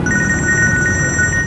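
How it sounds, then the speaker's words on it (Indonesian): A telephone rings with a bright, rapid electronic trill repeating in quick pulses, loud and close, with a low background hum beneath it. "Tuh, telepon."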